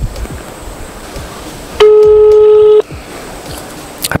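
A phone being dialed gives off a loud, steady multi-tone keypad beep held for about a second, standing out over faint background noise and a few soft clicks.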